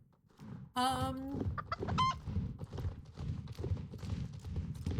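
Chickens clucking in a video game: a loud drawn-out cluck-call followed by shorter clucks, close and prominent over a steady rhythmic background of game sounds and footsteps.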